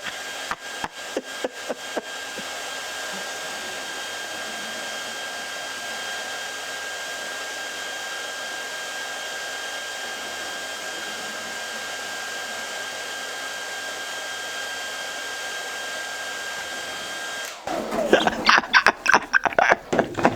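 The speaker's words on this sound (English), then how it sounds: "What we're going to use as an air source is this hairdryer" A handheld hairdryer blows steadily at close range onto a small model wind pump for about seventeen seconds, a constant whooshing drone, then cuts off into a few clattering knocks and mechanical rattles.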